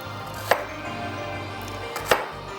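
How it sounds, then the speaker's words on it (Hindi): A knife chops onions on a board in two sharp, separate strikes about a second and a half apart, with quiet background between them and no talking. "चलिए, प्याज को यहाँ पर चॉप कर रहे हैं।"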